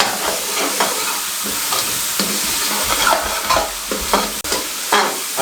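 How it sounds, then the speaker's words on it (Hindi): Cut potatoes fry with spices in a pan, a loud close sizzle layered with repeated spatula scrapes and stirs throughout. "साथ में 1 पाव आलू इस तरीके से कटे हुए शामिल कर देंगे और 2 मिनट तक मसाले के साथ आलू की भुनाई करेंगे।"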